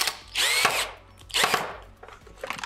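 Screw being loosened inside a DeLonghi espresso machine with a power screwdriver, heard as three short whirring bursts of the motor separated by brief pauses, close and moderately loud.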